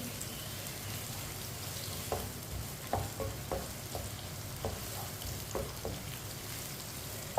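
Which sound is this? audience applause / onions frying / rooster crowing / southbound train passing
onions frying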